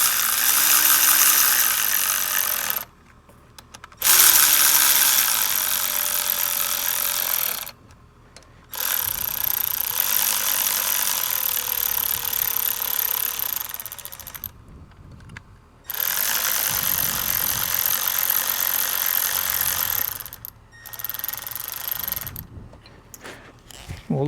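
Ratchet spinning down camshaft cover bolts on a GM Ecotec 2.2L engine in a Chevrolet Cobalt: continuous close rapid clicking in long bursts, broken by short pauses between bolts.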